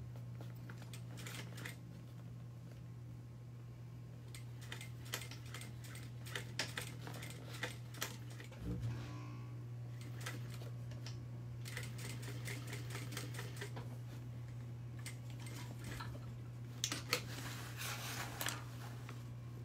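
A sewing machine stitches fabric about half an inch down in a dress sew-along, giving off rapid mechanical ticking and clattering in bursts over a steady low motor hum, close up and with no talking.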